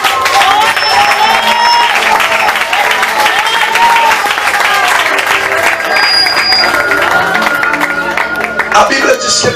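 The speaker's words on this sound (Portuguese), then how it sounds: "Jesus, com mais palmas" Clapping from a church congregation during a Brazilian evangelical service, continuous and loud, mixed with voices, shouts and music-like tones throughout.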